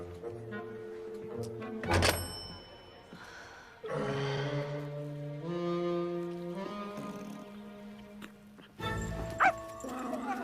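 A nearby dog gives a few sharp, loud barks, with long whining, tonal yelps drawn out between them.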